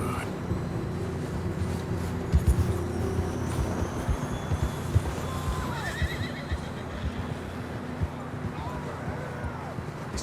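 Horses in Red Dead Redemption neigh and whinny while their hooves clip-clop steadily, a loud close whinny standing out over the rhythmic hoofbeats, and someone speaks briefly.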